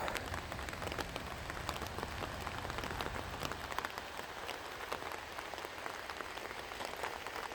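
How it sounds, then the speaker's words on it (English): Steady rain patters densely on a hiker's gear along a 4x4 track on the Cape Wrath Trail in the Scottish Highlands, a close, crackling spatter of drops that continues without voices. "There's just so much rain just now. It's been raining more or less non-stop."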